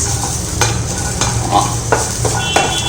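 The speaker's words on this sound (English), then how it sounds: "Now again in the same pan I put little ghee and frying this" Ginger and garlic sizzle loudly in hot ghee, while a spoon scrapes and stirs against the pan in irregular strokes.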